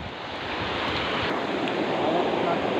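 The flooded Jhimruk Khola rushes past, swollen enough to sweep away logs. It gives a loud, unbroken roar of churning water, mixed with wind buffeting the microphone, and swells slightly toward the end.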